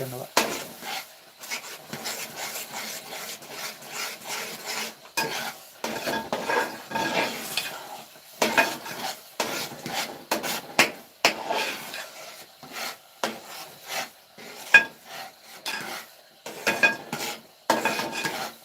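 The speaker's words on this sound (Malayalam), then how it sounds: "പായസമാകുമ്പോൾ ഉരുളിയുടെ അടി പിടിക്കാതിരിക്കാൻ അതിശക്തമായി നമ്മൾ ഇളക്കിക്കൊണ്ടിരിക്കണം ഇല്ലെങ്കിൽ അടി പിടിക്കും" Payasam is stirred hard in a heavy urli pot, producing a rhythmic run of scraping and knocking strokes in uneven bursts with brief pauses, fairly close and lively.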